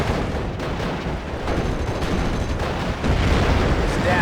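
Wartime battle gunfire in the game Hearts of Iron Normandy 44, a continuous rumble of distant artillery and scattered shots under a dense combat din, growing louder near the end.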